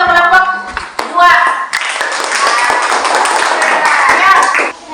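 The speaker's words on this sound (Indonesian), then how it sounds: "tepuk tangan untuk kelompok 2" A classroom group claps for group 2, a burst of hand claps building into sustained applause, mixed with a teacher's and children's voices at the start.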